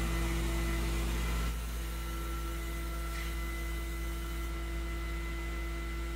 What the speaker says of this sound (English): lock it onto the drum, and then turn on vacuum pump.